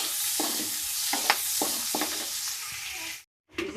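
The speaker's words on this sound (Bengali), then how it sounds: "এগুলো সামান্য নাড়াচাড়া করে আমি তুলে নেব।" Capsicum, tomato and green chilli fry in butter in a wok, a steady loud sizzle broken by repeated scraping stirs, cutting off briefly before the hiss resumes.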